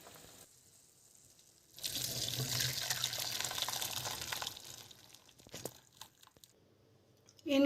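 Water and boiled watermelon rind pour and splash steadily through a strainer for a few seconds, then taper into a few light clinks and drips.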